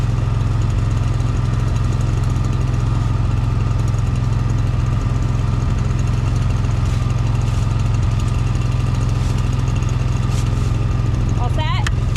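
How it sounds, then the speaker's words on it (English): A lawn mower with a clogged deck runs steadily, its loud, close engine drone continuing unbroken throughout, with a brief high whistling sound near the end. "As soon as she started mowing, it was just shooting leaves everywhere"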